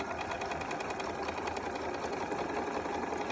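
A sewing machine stitches fabric in one continuous, even whir with a fast needle rhythm, close and loud from start to finish.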